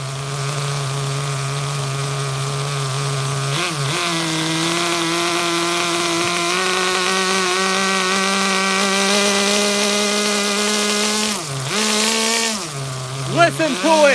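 A 1/9 scale HPI Super Nitro Dodge Viper RC car with hop-up parts idles loud and close, its small nitro engine buzzing steadily with brief dips and blips near the end, running rich while cold.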